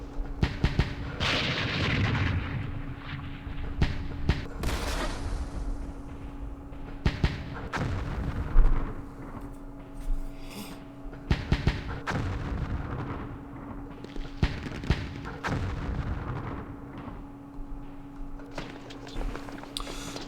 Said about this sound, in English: Mortars in that town